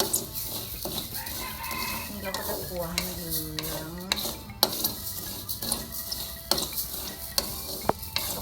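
Stirring a pan of shrimp mixture frying for Isan-style kung chom, with steady scraping and sizzling close by and a rooster crowing in the background.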